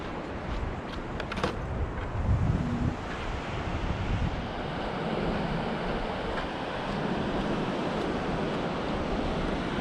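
Surf washes in at the shoreline as the sea rises, a broad continuous rush with heavy wind buffeting the microphone and a louder swell near the start.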